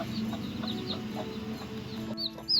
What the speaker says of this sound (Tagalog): nakita ko yung manok namin na may mga sisiw na